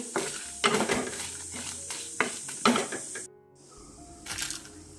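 Lentils and chillies roasting in a pan over a low gas flame give soft sizzling with repeated stirring scrapes and clinks of a utensil against the pan, close and moderately loud, quieter near the end.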